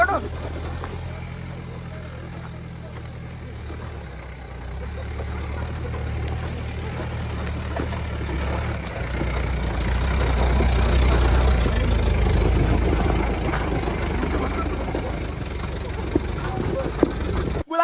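A jeep grinds along a rough off-road trail, its engine rumbling low and continuous and growing louder partway through, while people talk over it.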